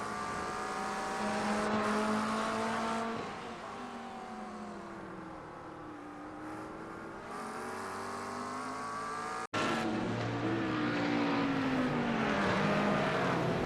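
Race cars in a sim racing game circling the Nürburgring GP circuit, engines droning and shifting pitch steadily as they run, one loud engine note abruptly cutting and resuming partway through, with no talk over it.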